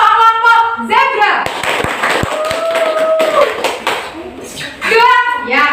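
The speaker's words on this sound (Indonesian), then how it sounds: "Kita beri aplaus untuk tangan untuk kelompok zebra" Applause from a primary school classroom for one pupils' group, a burst of clapping hands filling the middle of the clip between children's and a teacher's voices.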